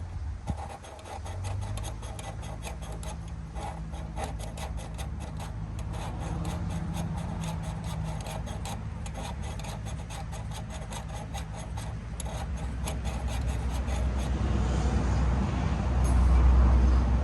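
A gummed-up, carbon-fouled engine valve on a 1931 Model AA dump truck is lapped by hand, giving a steady close rubbing rasp with rapid repeated strokes that continues throughout and grows slightly louder toward the end.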